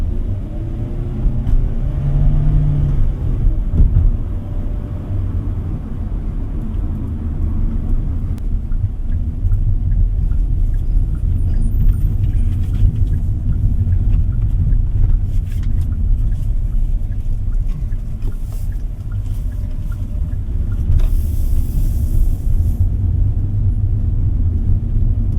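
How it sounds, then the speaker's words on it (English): Steady low road rumble and engine drone from inside a 2025 Hyundai Stargazer X driven in sport mode, continuous and fairly loud throughout, with a few brief higher-pitched noises near the end and no talk. "We're currently driving in sport mode, and it will change the shift points and the throttle inputs to a much more aggressive setting."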